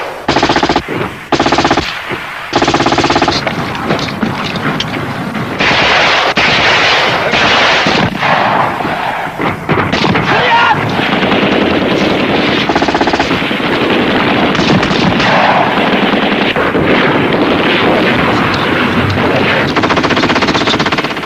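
Sustained heavy gunfire from tanks and BTR-60PB armoured personnel carriers covering a dismounted infantry attack in a 1983 Soviet encounter-battle training film: loud, dense machine-gun bursts and cannon-like booms rolling continuously with no speech.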